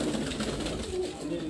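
Pigeons, including Deoband and red-pearl fancy breeds, coo softly with low, throaty murmurs on a rooftop loft in Larkana, Sindh, while someone talks over them throughout.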